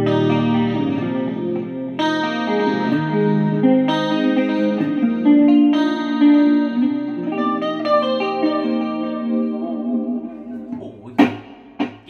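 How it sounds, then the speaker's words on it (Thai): Electric guitar played through a Boss ME-70 multi-effects pedal into a Laney amp with chorus effect, chords and single notes ringing with shimmering modulation and some reverb, loud and alone with no talking. "อันนี้ก็เป็นคอรัส"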